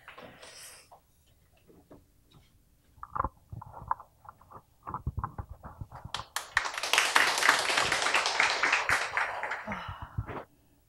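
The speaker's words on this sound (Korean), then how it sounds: "박수로 맞이해 주시기 바랍니다" At a Korean talk event, a few scattered claps swell into a full burst of audience applause welcoming a guest, then cut off quickly.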